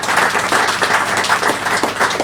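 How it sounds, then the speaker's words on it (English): An audience at an evening cocktails and coral talk gives dense, loud applause, many hands clapping in a continuous rush with no voices over it. "let's give Charles and Julian a huge round of"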